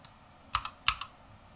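Four quick, soft keystrokes on a computer keyboard while a home brewer enters a Maibock beer recipe. The taps come in two close pairs and are quiet, with no speech.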